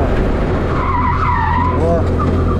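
A 1000cc kart skids under the handbrake, its tires scrubbing and squealing over a rumbling engine. Someone talks nearby while it slides.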